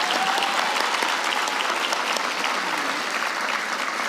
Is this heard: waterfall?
no